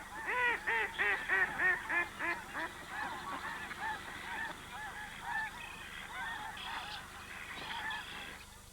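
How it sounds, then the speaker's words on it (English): Lesser snow geese honk in a dense chorus at Sand Lake, rhythmic calls loud at first, then a steadier overlapping flock clamour with no voices. "snow geese in great numbers also began arriving there"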